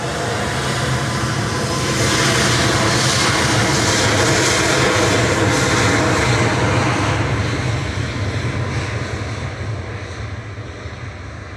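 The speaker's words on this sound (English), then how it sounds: "Ryanair's ready to roll to Corfu, flight 2100. This is a MAX 8" A Ryanair Boeing 737 MAX 8 departs Manchester Airport for Corfu, its jet engines a loud, steady roar that holds for several seconds and then slowly fades as it pulls away, with no talk over it.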